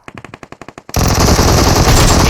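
Rapid bursts of automatic gunfire in a shooter video game, a string of separate shots that turns into a dense, sustained roar of weapons fire, loud and close, with no talk over it.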